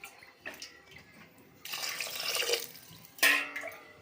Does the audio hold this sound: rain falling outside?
no